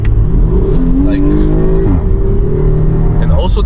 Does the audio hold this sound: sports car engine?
yes